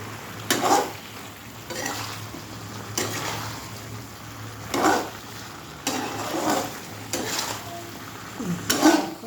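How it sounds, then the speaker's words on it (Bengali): Malabar spinach (pui shak) stir-fried in a pan, with sugar added, giving a steady low sizzle punctuated by repeated scraping, stirring bursts every second or so, with no talking over it. "কত জল বেরিয়ে যাচ্ছে শাকটা দেওয়ার পর থেকে, একটু কষানো হোক।"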